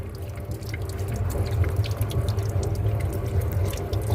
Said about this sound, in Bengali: নলটা চালিয়ে দেবো, জল পড়বে, ও জল খাবে।